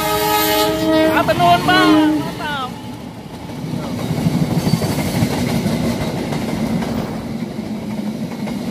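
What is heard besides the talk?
local passenger train KA448 passing with horn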